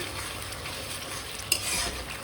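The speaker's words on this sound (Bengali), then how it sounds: "এখন আমি সুন্দর করে মশলাটাকে কষিয়ে নিচ্ছি" Spice paste for a meat and potato curry sautéing in a pan, a close steady sizzle under continuous stirring scrapes, with two sharper clinks of the spatula near the end.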